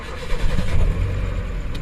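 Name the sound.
car engine starting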